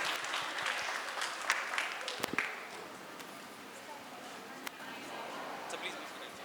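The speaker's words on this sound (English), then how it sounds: "Can I request all of you to give a round of applause as they are here with us today?" An audience at a school event applauds steadily, a dense patter of hand claps from a crowd that carries on through the clip, moderately loud and slowly thinning toward the end.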